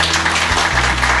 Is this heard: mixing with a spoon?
no